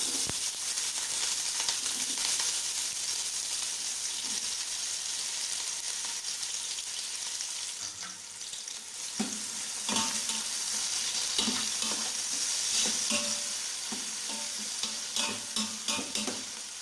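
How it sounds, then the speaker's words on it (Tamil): Onions and green chillies frying in hot oil for home-style chicken biryani, a continuous crackling sizzle with stirring scrapes and occasional pan knocks, close and fairly quiet, with no talk. "இந்த டைமில் நான் வந்து வெங்காயமும் பச்சை மிளகாவும் வந்து ஆட் பண்ண போகிறேன்."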